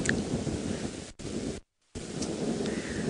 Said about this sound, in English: You can also hear the thunder rumbling.